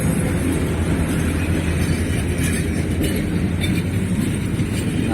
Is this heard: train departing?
yes